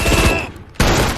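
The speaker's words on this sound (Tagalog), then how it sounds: "Nang sumugod si Dead matapos marinig ang putok, siya rin ay binaril." Dense, sharp bursts of WWII-era gunfire crackle loudly, cut off by a brief lull, then another loud volley erupts close by.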